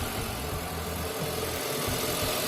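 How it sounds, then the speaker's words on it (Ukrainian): A Renault Duster engine idles steadily with a low rumbling hum and faint mechanical ticking, close by, no voices. "Двигун завився легесенько."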